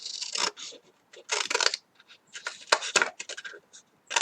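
Scissors cutting straight strips of paper, a run of close, crisp snipping bursts separated by short pauses.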